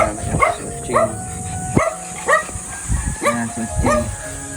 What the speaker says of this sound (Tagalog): pinapakain naman daw po nila yung alagang aso dito